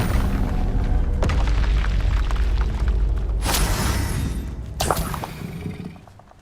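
A Confringo spell explosion in the Hogwarts Legacy video game: a heavy booming blast with crackling, shattering bursts that rumbles on before fading out near the end, loud and close.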